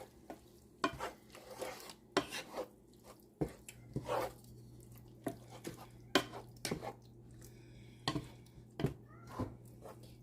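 A spoon stirs ravioli lasagna ingredients in a pot, giving sharp, irregular scrapes and knocks against the metal over a quiet simmering hiss, close and distinct, repeating roughly every second.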